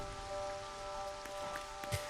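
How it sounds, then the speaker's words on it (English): Rain in the video game LEGO Fortnite, a steady hiss of falling drops with a few soft patters and faint tonal game hum beneath, moderately quiet and continuous. "Oh no, it's raining."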